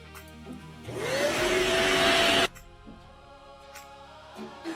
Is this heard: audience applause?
no